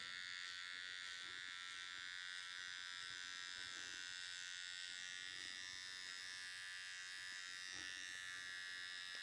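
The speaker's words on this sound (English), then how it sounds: "With that two guard, it gives it enough for this trimmer to grab to really create a nice line." An electric hair trimmer fitted with a number two guard buzzes continuously and steadily at close range while cutting a line during a short women's haircut, with faint soft scraping pulses as it passes through hair.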